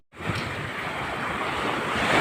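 Sea waves wash and roll against the shore in a continuous surging hiss, with gusting wind buffeting the microphone, loud and close with no speech.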